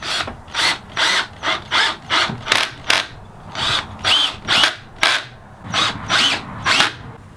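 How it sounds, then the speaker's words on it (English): A power drill driving screws into wood while building an end table, its clutch slipping in a rapid ratcheting clatter, about a dozen short loud bursts in a steady rhythm, close by with no talking. "Remember to have your clutch set light enough so you don't split the wood, but yet still drives the screws in all the way."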